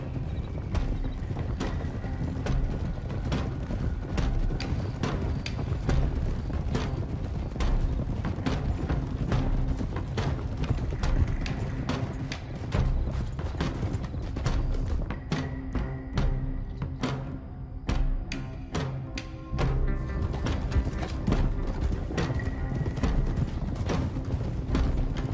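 Horses walking in Red Dead Redemption 2 produce a steady, dense clip-clop of several hooves, with gear and tack jingling and creaking throughout, moderately loud and continuous, and no talking.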